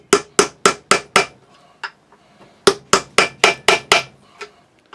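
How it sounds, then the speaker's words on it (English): A hammer strikes a chisel cutting out the metal between drilled holes to form a slot in a sword blade, two rapid bursts of about five sharp, ringing blows each, close and loud. "I just chisel between the drill holes."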